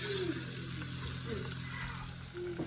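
Steady sizzling and crackling of white bass frying in a pan, a constant hiss with soft bubbling throughout.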